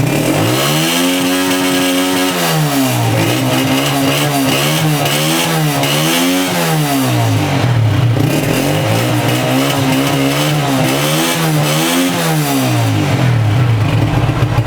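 A 2020 Power PK 125 motorcycle engine is revved repeatedly up toward its limit: loud, close rising and falling surges of engine roar in a steady cycle, with no speech.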